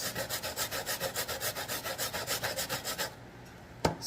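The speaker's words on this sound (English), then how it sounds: "I'll be back when I finish grating the coconut" Coconut grated by hand makes a steady rhythmic rasping, roughly four strokes per second, close and moderately loud for about three seconds before stopping with a single knock.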